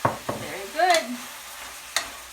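Meat and onions browning in a pan, a soft steady sizzle with a few sharp scraping stirs and clinks of a utensil, close and brief, no talk.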